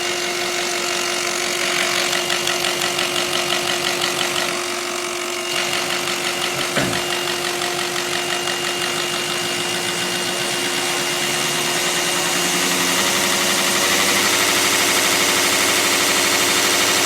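A 1990 Powerstroke diesel engine fitted with a DB2 injection pump idles steadily, a loud, continuous rumble with a fast knocking rhythm and no voices.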